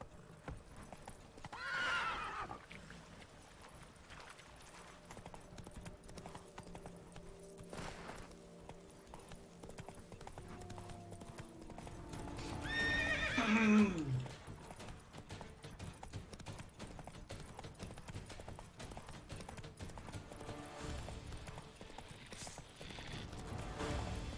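A horse in the video game The Witcher 3 gallops with steady clip-clopping hooves and neighs loudly twice, once near the start and once midway.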